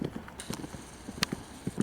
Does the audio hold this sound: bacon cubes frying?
no